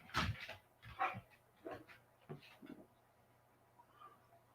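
A dog in a deer blind gives a series of short whimpers and yips, several distinct bursts spaced about a second apart that fade to softer whines, close and fairly quiet with no talking.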